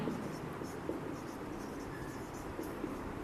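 Pen writing on paper during a Class 10 maths lesson, with soft, close scratching strokes running steadily under low background noise and a quiet voice.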